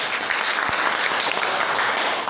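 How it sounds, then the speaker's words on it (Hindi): A classroom of students claps together in one short, dense burst of applause that stays loud and even throughout, with no speech over it. "ताली बजाओ अपना लिए एक बार।"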